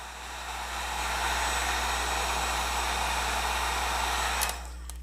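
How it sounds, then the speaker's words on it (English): A hair dryer blows steadily up close on heat shrink tubing, a constant airy whoosh with a low hum, then cuts off near the end with a small click. "and then hit it with your heat gun or your hair dryer"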